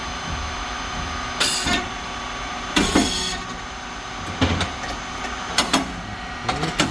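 A SYP5310T rice cake machine running, a steady mechanical hum and whir from the motor, pump and fan, broken by several sharp hissing bursts and clanks as the mold cylinder cycles.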